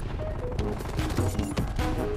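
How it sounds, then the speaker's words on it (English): Rapid weapon fire from a War Machine launcher in Call of Duty Cold War, dense and continuous over busy game noise for about two seconds, with faint voices mixed in. "I got a war machine, I'm using it."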